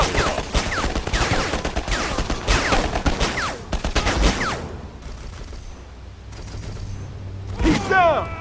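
Rapid bursts of gunfire from a shooter game, Conflict: Denied Ops, crackling close and loud for several seconds, then thinning to sparser shots with a voice speaking underneath.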